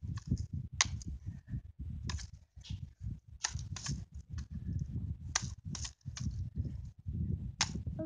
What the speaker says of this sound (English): I'm going to cock it up for 5 times